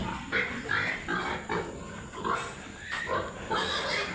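Piglets in a pen grunt and squeal in short, repeated bursts, fairly close and moderately quiet, against a low background hum.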